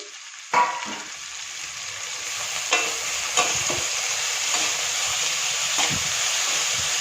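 Vegetables stir-frying on full flame for basmati fried rice, a strong steady sizzle with a sharp clatter at the start and intermittent spatula scrapes and knocks against the pan throughout.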